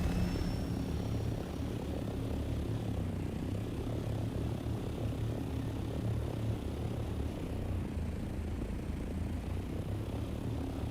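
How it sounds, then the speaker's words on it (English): A basic thruster on a vehicle in the Dune Awakening game gives a steady, dense low roar, like a propeller engine, running loud and unbroken throughout with no talk over it. "Oh yeah, I've got the thruster on finally. Basic thruster."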